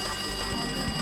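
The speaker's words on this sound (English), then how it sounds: "Phone is ringing." A telephone rings in the video game Danganronpa 2, a steady electronic ring holding at even level through the whole short moment with nothing else over it.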